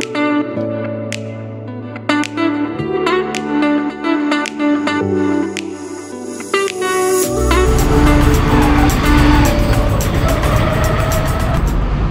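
A truck travelling by road between Gorakhpur and Varanasi, near a flyover at Bhadohi, gives sustained tonal droning that gives way to a loud, steady broadband engine and road rumble in the second half.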